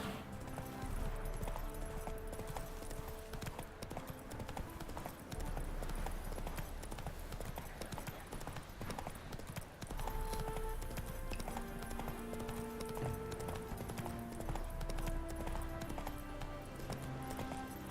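Roach the horse galloping in The Witcher 3, rapid rhythmic hoofbeats under game music, steady throughout with no talking.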